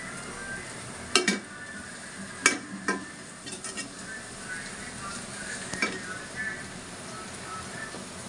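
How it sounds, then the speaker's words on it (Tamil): Onions sautéing in a pan for mutton biryani give a soft, steady sizzle, broken by a few sharp clinks of a utensil against the pan. "இன்னும் கூட கொஞ்சம் வெங்காயம் வதங்கினால் நல்லா டேஸ்டா இருக்கும் மட்டன் பிரியாணி"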